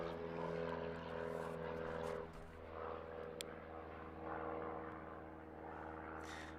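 A red and white One Design aerobatic propeller plane flies during a national aerobatics championship, its engine a steady droning hum with shifting tone, moderately distant and fairly quiet throughout.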